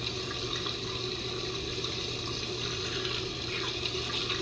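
Shower water running steadily in a video game, a continuous even spray of splashing water with no breaks, fairly close and alone.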